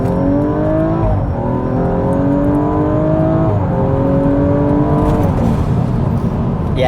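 A Stage 2 BMW M135i pulling hard in second gear, the engine note climbing steadily in pitch with brief dips between rising sweeps, loud and heard from inside the car.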